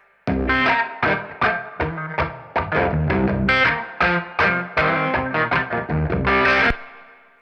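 An effected guitar loop through a spring reverb pedal plays chopped, rhythmic chords with a washy, distorted tone, then cuts off abruptly, leaving a brief fading reverb tail.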